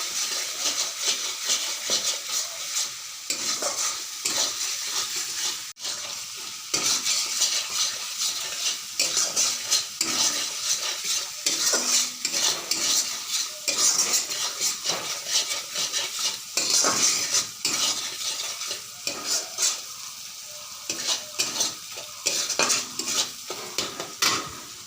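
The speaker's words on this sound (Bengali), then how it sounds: "তারপরে হলুদ, পরিমাণ মতো লবণ আর ভালো করে কষাই নেব।" Turmeric and salt are sautéed in a pan for a rui fish curry with ridge gourd and potato: continuous close sizzling with rapid, repeated scraping and stirring strokes of a utensil against the pan, and no voices.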